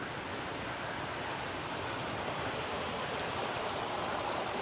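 River flowing near an Oregon camp spot, a steady, broad rushing wash of water that holds constant and fairly loud throughout with no other sounds.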